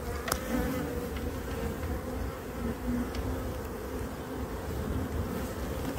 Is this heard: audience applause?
no